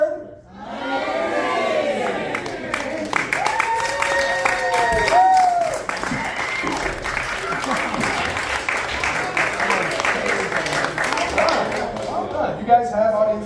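A crowd at a magic show at the Blue Strawberry breaks into steady, sustained applause with scattered cheers and shouts. A voice speaks briefly at the start before the clapping fills the room and continues evenly.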